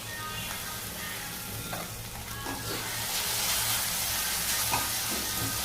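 Soaked lentils hit hot oil in a pan, giving a continuous close sizzle and frying hiss that grows louder and fuller partway through, with occasional soft stirring clicks.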